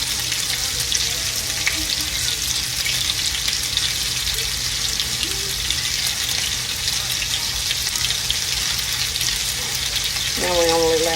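Meatballs frying in a pan give off a loud, steady sizzle that runs unbroken for the whole stretch, with a brief watery gurgle near the end.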